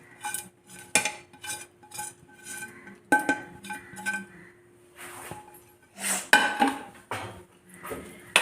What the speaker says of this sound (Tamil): இது நல்லா கலக்கிக்கோங்க